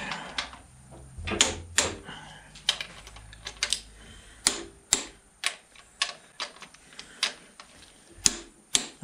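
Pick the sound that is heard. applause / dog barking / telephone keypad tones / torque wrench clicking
torque wrench clicking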